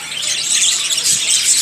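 Birds eating millet chirp and tweet in a busy, bright flurry close by, many small calls overlapping continuously.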